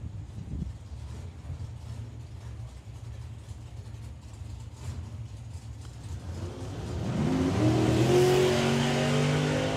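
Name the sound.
drag racing car launching with a wheelie down the strip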